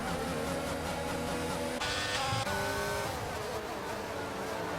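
Racing engines in F1 2022 multiplayer drone steadily with layered whine and shifting pitch as cars fight for position, a burst of higher revving in the middle, with a commentator's voice running underneath.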